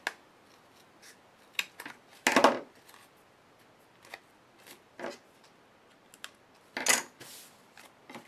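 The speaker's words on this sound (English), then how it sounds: "I'm going to need to do a little bit of trimming on that one" Scissors trim a stamped paper card in short, sharp snips with pauses between them, close and crisp. One louder cluster of cuts stands out near the middle and another near the end, with no talking.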